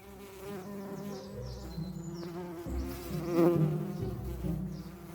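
Bees buzz steadily around, a busy insect hum rising and falling as individuals drift closer and farther, with no voices, in Western Australia.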